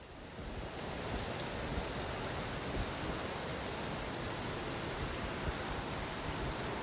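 Simulated rain at LaGuardia airport in the X-Plane 11 flight simulator, a steady dense hiss of falling rain that swells in within the first second and then holds constant.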